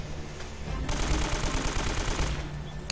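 Rapid automatic AK rifle fire in the Uncharted video game, a dense loud burst lasting a couple of seconds after a softer lead-in.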